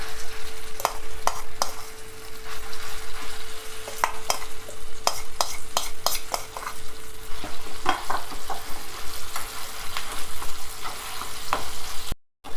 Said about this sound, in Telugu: కొంచెం సేపు పచ్చివాసన పోయే వరకు ఇలా వేయించుకోవాలి